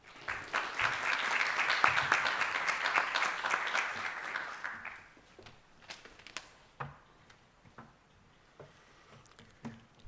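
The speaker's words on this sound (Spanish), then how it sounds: "Un aplauso, por favor." An audience at a Chilean education forum applauds warmly for about five seconds. The clapping then thins out to a few scattered, fading claps.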